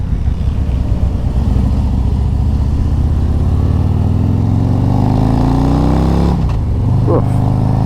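A 2023 Harley-Davidson motorcycle engine drones loudly and nearby, then its pitch climbs smoothly as it revs up, with a brief dip near the end, while someone talks over it.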